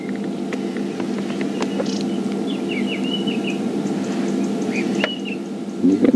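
A drongo in the African bush gives scattered chirps and short whistled calls, mimicking other birds, moderately distant over a steady low rumble of a safari vehicle.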